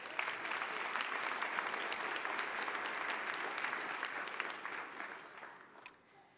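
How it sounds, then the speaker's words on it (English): An audience breaks into sustained applause for Dr. Lydia W. Thomas at an HBCU engineering deans' recognition event, a dense, steady wash of clapping that gradually thins and fades near the end. "Give her a round of applause."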